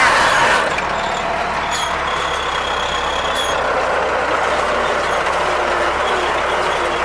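A CLAAS 46 round baler runs steadily in a hay field, a loud continuous mechanical drone with rattling drive noise and a couple of brief hissing, air-brake-like bursts early on, no talk.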